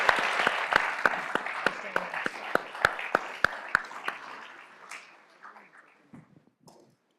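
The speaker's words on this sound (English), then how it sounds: "Let's give them a round of applause." An audience claps steadily with sharp, regular hand strikes standing out, then the applause thins and fades away into quiet.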